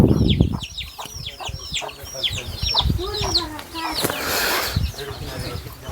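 Several chickens cluck and chatter busily close by, overlapping calls in quick succession with a brief burst of rustling noise partway through.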